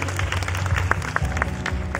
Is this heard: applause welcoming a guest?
yes